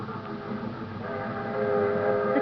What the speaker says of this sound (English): I was just thinking about the train.